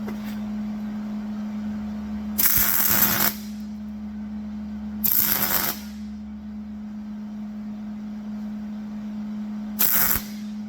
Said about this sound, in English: let's get these tacked in.